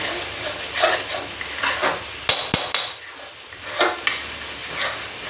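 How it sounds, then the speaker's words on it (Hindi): Masala frying in a pan while a spoon stirs and scrapes it, a steady close sizzle broken by sharp scraping strokes and clicks against the metal, with no voices. "इस मसाले को भूनना बहुत ज़रूरी है, और वो भी ऐसे खरोंच खरोंच के"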